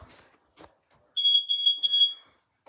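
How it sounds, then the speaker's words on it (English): A household smoke alarm sounds during a test, giving a shrill, piercing electronic beep in a short run of pulses after some faint noises. "Yeah, and there's a smoke alarm."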